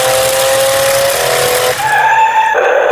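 A remote-control toy car, an extreme RC model, whines loudly and continuously up close, its motor pitch stepping up and down as it speeds and skids, with no talk over it.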